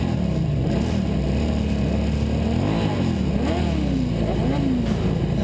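Formula 3 race cars circling the circuit at Morgan Park, engines droning loudly and continuously with rising and falling pitch as cars pass, a steady dense roar throughout.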